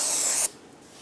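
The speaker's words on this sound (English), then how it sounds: "Spray it down, wipe it off." Parts cleaner sprayed from an aerosol can onto a brake rotor of a 2003-2008 Honda Pilot, one loud close hissing burst lasting about half a second before cutting off sharply into quiet.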